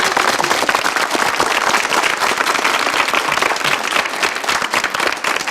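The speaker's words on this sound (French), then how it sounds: "Bien, on l'applaudit très fort." Loud, dense audience applause fills the room at a televised show about cats, a steady close wash of clapping with no voices over it.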